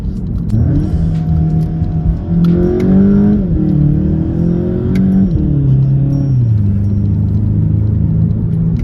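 A 2020 Volkswagen Golf GTI hot hatch is driven through corners, its engine note droning steadily and rising and falling in pitch as it shifts and accelerates, heard up close and loud from inside.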